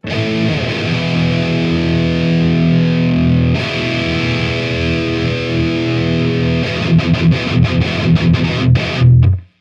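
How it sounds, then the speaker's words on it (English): Heavily distorted electric guitar, high-gain amp boosted by a Tube Screamer pedal, rings out sustained chords, then switches to a choppy, chugging riff, loud and up close. "Let's throw on the Tube Screamer for a boost. And let's go straight to the high gain."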